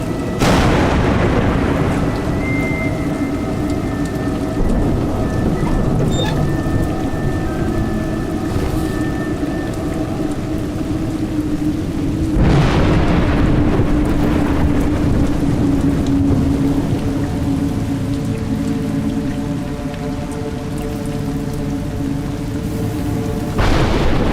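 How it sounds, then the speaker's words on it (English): Steady rain pours in the game A Juggler's Tale, a continuous wash of drops with two deep thunder rumbles rolling through, plus faint tonal game music underneath. "It's raining"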